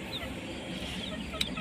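Soft, low clucking from a hen with her chicks, faint and close, over a quiet background with a brief chirp near the end.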